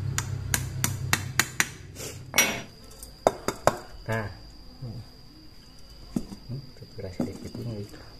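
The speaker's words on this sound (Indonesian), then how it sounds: "Kita pukul, bisa menggunakan paku atau apa aja ya yang runcing seperti ini" A pointed nail is struck to tap out the hook of a motorcycle carburetor, giving a quick series of sharp metallic taps and clinks, close and loud, followed by scattered knocks while someone talks.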